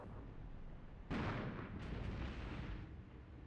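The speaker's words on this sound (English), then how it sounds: "Enemy artillery now coming in." Incoming artillery fire in the Armored Brigade 2 wargame, with Leopard 1 and T-72 tanks in battle, arrives as two sharp distant blasts about a second apart, each trailing a rolling rumble over a low steady background.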